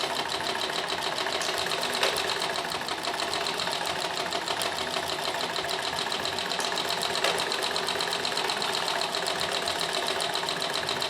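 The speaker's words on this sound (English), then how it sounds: "So I'm just using my Necchi, and I've put in the Roman type cam, as I call it." A Necchi sewing machine runs steadily, stitching silk with a decorative Roman-style cam fitted, giving a continuous rapid mechanical whir and clatter at even loudness throughout, close by with no talking.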